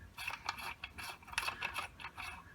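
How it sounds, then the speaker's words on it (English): A Midwest Industries blast diverter is threaded onto the muzzle of an AK pistol, producing faint, close, irregular metallic clicks and ratcheting scrapes in a quiet room without talk. "Midwest Industries blast diverter, and then it just threads on here"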